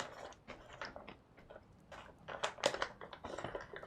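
Snacks are crunched close to the mouth in a quiet run of crisp chewing bites, irregular and fairly faint at first, then a little louder toward the end, with no voices.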